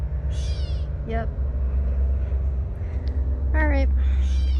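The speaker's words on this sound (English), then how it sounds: "Hear the birds." Two brief chirping bird calls, with sweeping pitch, sound over a loud, steady low rumble outdoors in a cemetery.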